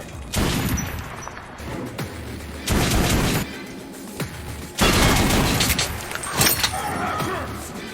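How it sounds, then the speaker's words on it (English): Auto-cannon firing shotgun shells in the video game Metro Last Light, heavy booming bursts of rapid fire in several loud volleys with brief lulls between, dense and close. "fires shotgun shells like an HMG and leaves a trail of freshly dismembered mutants in its wake"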